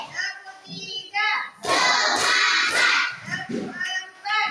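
Children in an Indonesian classroom clapping to a counting routine, bursts of hand claps mixed with kids' voices chanting along, fairly close and lively, with speech before and after the clapping.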